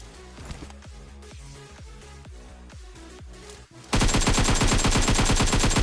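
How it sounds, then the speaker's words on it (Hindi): Gunfire in the PUBG Mobile battle game: a run of evenly spaced single shots, then a sudden louder burst of dense rapid automatic fire near the end. "यहाँ पे गाइस मैं फायरिंग करता हूँ"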